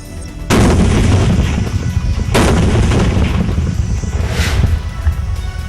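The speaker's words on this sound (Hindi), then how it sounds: "जब पाक ने जारी रखी फायरिंग तो भारत की ओर से भी की गई जवाबी कार्रवाई।" Cross-border gunfire between Pakistani and Indian forces: loud, sharp blasts near the start and again around two seconds, each rolling into sustained, heavy rumbling fire that continues throughout.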